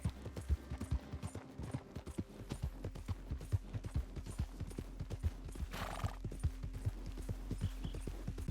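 A horse in Red Dead Redemption 2 trots with a steady, rhythmic clip-clop of hooves, and a brief whinny rises partway through, all fairly quiet over a low game background rumble.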